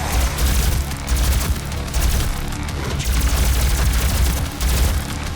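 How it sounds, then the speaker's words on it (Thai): Booming explosions mixed with rapid gunfire in the video game DOOM, loud and dense, bursts coming in quick succession. "ระเบิด"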